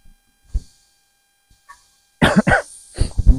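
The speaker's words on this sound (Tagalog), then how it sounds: "Pasensya na po. Yung ubo-ubo." Coughing from a man, a few scattered faint sounds then a cluster of loud, close, harsh coughs and throat-clearing bursts in quick succession near the end.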